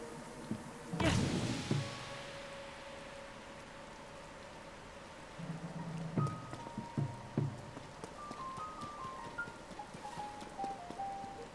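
Steady rainfall hisses throughout in The Legend of Zelda: Tears of the Kingdom, with a loud thud near the start and scattered dull knocks and thumps over the constant patter.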